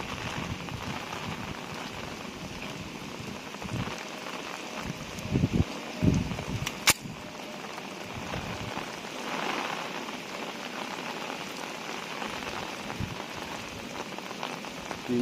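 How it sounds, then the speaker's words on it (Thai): Heavy rain pours down steadily at an outdoor shooting range, a dense continuous hiss with a few brief thumps and knocks partway through and no talking. "ท่ามกลางสายฝนเลยครับ"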